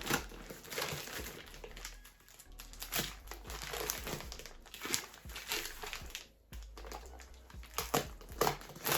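A soft Ukrposhta postal parcel is opened carefully, and its plastic packaging crinkles and rustles close by in irregular bursts, with a few short tearing and crumpling sounds.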